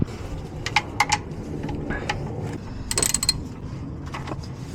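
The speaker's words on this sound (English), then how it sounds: "Got my wrench and a 14mm socket. So let's loosen it." A ratchet wrench with a 14mm socket loosening the sump plug on a Suzuki Swift, close rapid ratcheting clicks in short bursts with metallic taps.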